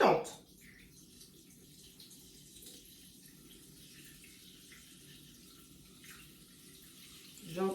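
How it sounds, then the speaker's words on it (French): Sparkling water poured for bread dough gives a steady, soft hiss of fizzing and flowing liquid for several seconds, framed by brief louder bursts at the start and end. "moi j'entends le petit bruit du gaz"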